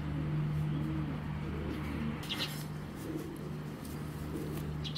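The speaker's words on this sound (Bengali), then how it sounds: "তো তারপরেও দেখাই কবুতর দুইটা আগে" Soft, low cooing from a pair of black checker racing pigeons, a steady hum-like call running through most of the stretch, faint and close against a quiet background with a few light sounds near the middle.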